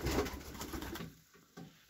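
Pigeons in a loft in Transylvania, Romania, giving soft cooing calls on a snowy evening. The calls are low and muffled against a breathy background hiss, with no one speaking.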